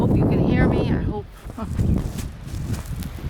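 Strong wind on an outdoor hillside rumbles against the microphone in low, uneven gusts, while a person talks over it.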